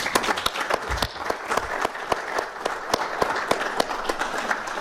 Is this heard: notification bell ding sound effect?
no